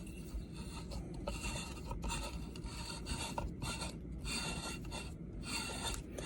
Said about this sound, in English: You're now going to start screwing it in.